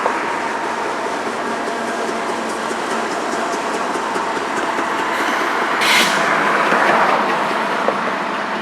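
Freight train passing near Inman Yard, a loud, steady continuous rumble and roar close by that swells slightly toward the end, alone without talk.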